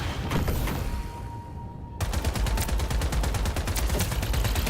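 Rogue turret gunfire in a video game: a dense, steady burst of rapid shots, then a brief lull with a thin tone before the firing resumes in quick, evenly spaced reports, loud and close throughout.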